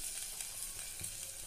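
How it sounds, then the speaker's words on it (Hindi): A ladle stirs kadhi mixed with a freshly made tadka in a kadai, giving a continuous soft sizzle and frying hiss with faint scraping movements, low in level and without speech. "और कड़छी में इसको और थोड़ा चलाते हैं।"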